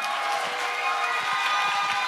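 Church youth service congregation applauding as a pastor is welcomed, a brief dense wash of clapping and crowd noise at moderate level.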